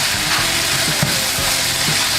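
A spicy dip mixture sizzles steadily in a pan. Soft scraping and stirring strokes sound now and then over the constant frying hiss, loud and close, with no voices.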